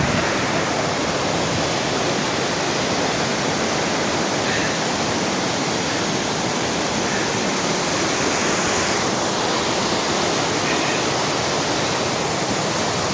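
Heavy, continuous roar of a fast-flowing mountain stream rushing beneath a bridge in the Pyrenees, dense and loud with no breaks, steady broadband wash of water.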